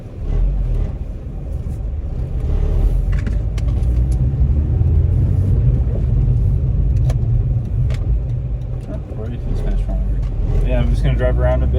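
Mazda RX-8 R3 driving along, a steady low engine and road rumble filling the cabin throughout, with occasional light clicks and rattles over the top.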